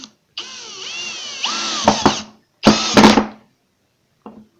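A power drill drives screws into wood in several bursts: a long whining run with the pitch rising and falling, a short pause, a second strong burst, then a brief final blip, heard close and alone.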